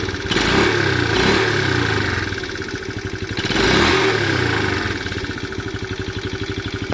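A motorcycle engine runs steadily close by, with two rising revs swelling and fading over a continuous mid-pitched rumble and light mechanical clatter; no voices.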